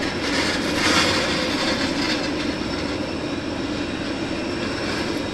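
A Hawker Hurricane's piston engine gives a steady, loud, broadband roar at an airport, holding at an even level throughout with no talking.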